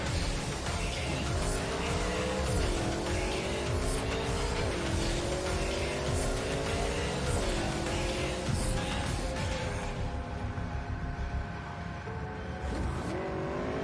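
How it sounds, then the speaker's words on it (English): A car is driven in the video game Cyberpunk 2077 while following another car during a mission, its engine rising in pitch again and again through gear shifts, loud and continuous, with faint tire noise. "Let me follow this car first."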